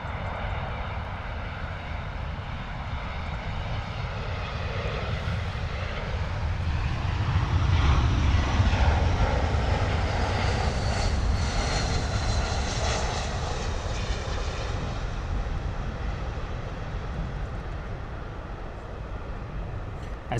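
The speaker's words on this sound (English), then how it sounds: "A319 coming in from Berlin." An Airbus A319 airliner arriving from Berlin and landing at London Heathrow, a loud, sustained jet engine roar that swells to a peak midway and then slowly fades, with no talk.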